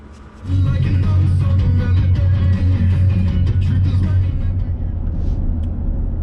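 A 2020 Ford F-150 pickup truck drives along with a loud, steady low engine and road rumble, heard close from inside the cab, fading slightly toward the end.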